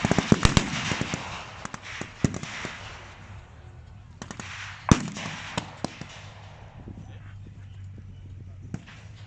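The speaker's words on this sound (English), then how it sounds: "This multi-barreled rocket launcher. The Germans nicknamed it Stalin's organ because of the wailing it made when firing." A multi-barrelled rocket launcher, the Stalin's organ, fires at a military show, giving a rapid volley of sharp, loud bangs with echoing crackle between them, then another burst of reports and scattered pops.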